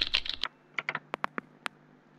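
Keystrokes on a computer keyboard, a quick burst of clicks followed by scattered individual taps, close and fairly quiet with no talking.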